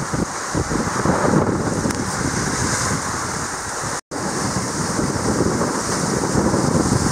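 Loud, continuous roar of ocean surf and gusting wind buffeting the microphone while sailing toward Cap Dombra at the northern cape, a dense unbroken wash with one abrupt momentary dropout midway and no voices.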